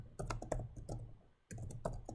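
Keystrokes on a computer keyboard while entering PowerShell code, a quick irregular run of close, light clicks that breaks off briefly and then resumes.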